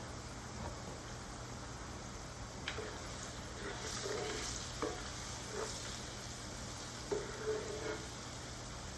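Onions fry in a pan with a steady, soft sizzle throughout, broken by a few faint clicks and stirring taps, heard close but at low level without any speech.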